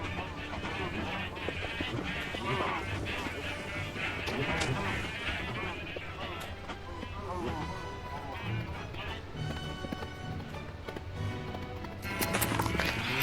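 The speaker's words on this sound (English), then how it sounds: "then I decide to take my horse on an adventure" A horse trots with steady clip-clop hoofbeats while being ridden through Minecraft, running under continuous talk and game sounds for the whole stretch.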